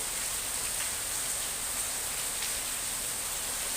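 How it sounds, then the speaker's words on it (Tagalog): Heavy rain pours down steadily, a loud, unbroken hiss of drops hitting surfaces nearby, with no pauses and no voices over it. "Ayan, ang lakas ng ulan."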